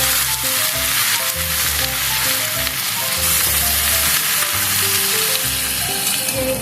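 Ground spice paste is stirred and fried with vegetables for Bengali shukto, producing a loud, continuous sizzle punctuated by rhythmic stirring scrapes close up, with no voices.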